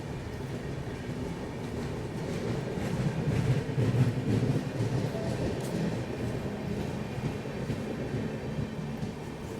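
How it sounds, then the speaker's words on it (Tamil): The Antyodaya superfast express on its Thiruvananthapuram to Mangaluru route, heard as a steady low rumble of the moving train that swells slightly midway, with a voice talking faintly underneath. "Thiruvananthapuram central to Mangalore சென்ட்ரலுங்க express."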